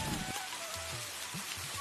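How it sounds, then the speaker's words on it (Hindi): Steady village rain falling on surfaces, a dense continuous hiss of drops filling the whole clip, with a faint tone and soft low sounds underneath. "बाबा आ गई, बारिश आ गई।"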